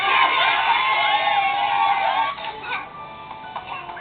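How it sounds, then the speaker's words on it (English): A crowd of cartoon ponies cheers for Flurry Heart at day camp, a lively mix of high shouts and whoops that swells, dips briefly, then rises again over background music. "all the ponies are essentially cheering for Flurry Heart"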